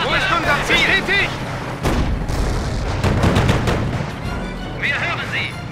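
Artillery shelling in Company of Heroes rumbles on in dense, continuous booms and blasts, heard beneath shouted German soldier voices.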